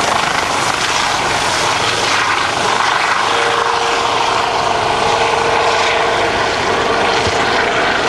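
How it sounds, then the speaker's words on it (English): A medical helicopter takes off, its rotor and engine roaring steadily and loudly nearby, a constant whirring drone with no voices. "You watch that helicopter take off. That's a medical helicopter taking off."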